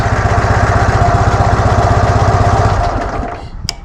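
A Dnepr MT11 motorcycle engine with PZ30 carburetors runs at a steady, pulsing idle, loud and close, then drops off near the end with a brief sharp click.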